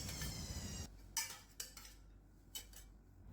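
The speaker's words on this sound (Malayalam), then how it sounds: "ഇനിയിപ്പോൾ ഈ വെജിറ്റബിൾസ് എല്ലാം ഇട്ടതിന് ശേഷം ഒന്ന് മിക്സാക്കി എടുക്കാം" A spoon clinks and scrapes against a bowl while chopped vegetables are mixed for a breakfast dish, with a few sharp taps spaced out after an initial stretch of rustling, close and fairly quiet.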